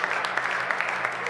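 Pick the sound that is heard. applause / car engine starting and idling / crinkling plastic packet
applause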